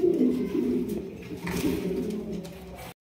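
A Kaldam pigeon cooing close by in repeated low, throaty rolling coos, held in the hand, with no talking.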